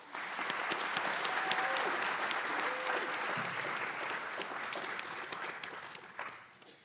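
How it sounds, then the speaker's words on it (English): A graduation ceremony crowd applauds warmly for several seconds, the clapping steady and full before gradually thinning and fading toward the end. "Another round of applause."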